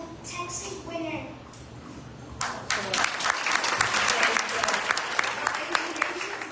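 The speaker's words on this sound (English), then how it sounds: "Let's give it a big round of applause." An audience at a Diwali gathering of BSS students at the Gayatri Consciousness Center in Katy, Texas bursts into applause, a sudden loud sustained clapping after some brief talk.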